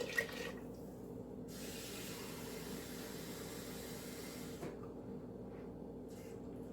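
Water runs steadily into a soup pot while homemade low-sodium chicken noodle soup is being made, a faint, even splashing stream that continues for several seconds, briefly dropping off near the end.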